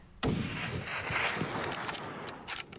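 A single loud gunshot aimed at a grizzly bear on a trophy hunt cracks out sharply outdoors, followed by a rumbling decay and faint rustling handling noises.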